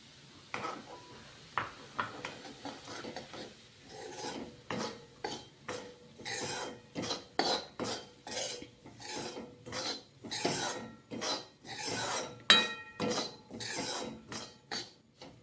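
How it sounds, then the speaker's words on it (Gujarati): Semolina is stirred as it roasts in hot ghee in a pan, with repeated dry, rasping scrapes in a steady rhythm, close and fairly quiet, with no talking. "તો આપણું ઘી ગરમ થઈ ગયું છે તેમાં રવો એડ કરી દઈશું"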